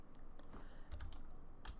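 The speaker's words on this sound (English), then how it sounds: "on my keyboard, press the R key, and then Y, and then 90 to rotate it 90 degrees on the Y axis" Computer keys tapped by hand, a handful of quick, crisp clicks in an uneven rhythm, close and fairly quiet with no talking.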